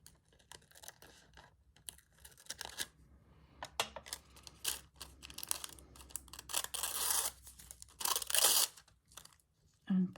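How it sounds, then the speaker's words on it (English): Scissors cut out a curved peacock wing from fabric for slow stitching, making irregular crisp snips and rustles of material, close up, with bursts of louder crinkly handling toward the end. "I'm going to cut out that wing"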